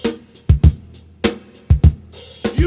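Drum break from a track: a loose groove of punchy kick drums and crisp snare hits with hi-hat in between, loud and upfront, with no voices.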